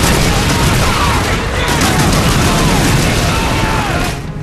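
Dense, loud gunfire and booming blasts from a World War II trench battle in a war video game, a continuous barrage filling the whole stretch with possible shouting mixed in.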